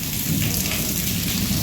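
Steady rain falling in rural Madhya Pradesh near a hilltop temple and fort, a dense, even hiss of drops with no break and no voices.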